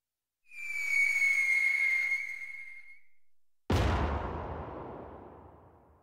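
In a radio drama, a long whistling fall from the sky ends in a sudden, loud explosion as something crashes into the ground, its booming rumble decaying slowly over several seconds, with no voices.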